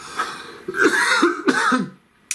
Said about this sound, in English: I know when I cough during a reading